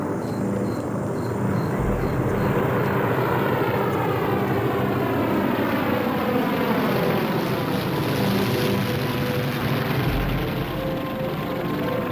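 A low-flying C-123 transport aircraft spraying for mosquitoes drones loudly and steadily overhead, its engine roar shifting in pitch as it passes low and close.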